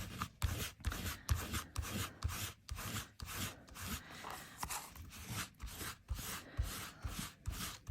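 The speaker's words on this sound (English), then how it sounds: "Just give it a bit of elbow grease here to wipe it off." Rhythmic scrubbing strokes rasp back and forth in a steady repeated pattern, rubbing texture paste off metal tape, close and fairly quiet, with no talking.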